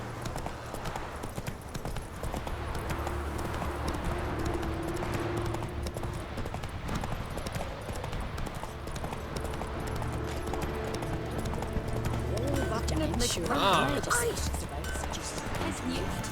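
Roach the horse's hooves clip-clop steadily in The Witcher 3: Wild Hunt, a continuous rhythmic trot beneath game music and ambience, with people talking over it.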